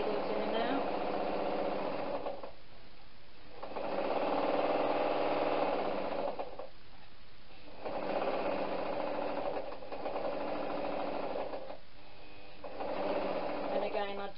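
A sewing machine stitches thick cotton curtain fabric in four steady running bursts of several seconds each, with short pauses between, close and fairly loud.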